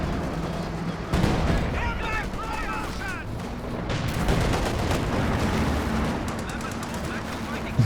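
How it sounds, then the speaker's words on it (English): Infantry gunfire in the real-time strategy game Company of Heroes 2: repeated rifle and machine-gun bursts crackle over a dense battlefield rumble with distant explosions, mixed under commentary talk. "Taking infantry fire."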